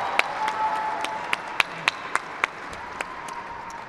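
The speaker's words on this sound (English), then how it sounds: "Give them a round of applause." Audience applause at an inauguration celebration, a steady wash of clapping from a crowd with a few sharp, distinct nearby claps standing out at irregular intervals.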